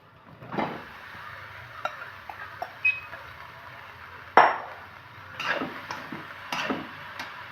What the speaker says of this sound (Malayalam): ഇത് നന്നായിട്ട് മിക്സ് ചെയ്ത് കൊടുക്കാം